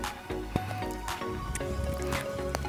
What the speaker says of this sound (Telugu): మీకు కావాల్సినంత బటర్ తీసి బాగా స్క్వీజ్ చేసి బాక్స్లో పెట్టుకోండి.